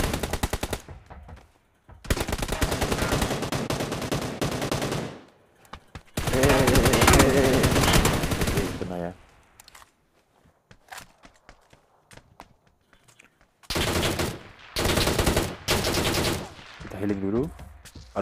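Gunfire in the mobile battle royale PUBG New State: several long loud bursts of automatic fire broken by quiet stretches with footsteps and small clicks, no speech over the shooting.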